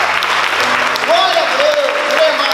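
A church congregation applauds during a sermon, with dense, steady clapping throughout and a voice speaking over it.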